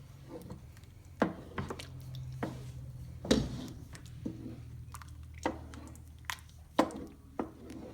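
Sour cream being stirred into a thick German potato soup in a pot, with soft wet squishes and gentle scraping strokes at an uneven rhythm, close and quiet.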